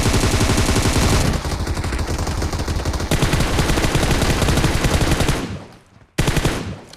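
Rapid automatic gunfire in the mobile game BGMI, dense continuous bursts loud and close, briefly dropping out before a final burst, with no speech.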